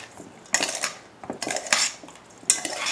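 A spoon scrapes and clinks against a bowl while blueberry pie filling of blueberries, sugar, cinnamon, lemon juice, butter and cornstarch is mixed, in three loud bursts of stirring with brief pauses.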